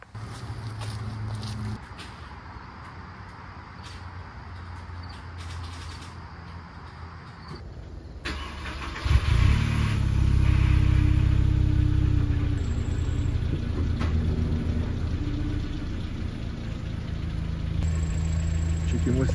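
An old car that burns oil idles after a fresh alternator change, a steady low engine rumble that swells louder partway through and keeps running, with occasional voices nearby.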